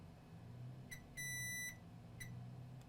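Multimeter in diode mode beeping during a BMW 525i key fob circuit repair: a short beep, a longer steady tone, then another short beep, faint over quiet background hum.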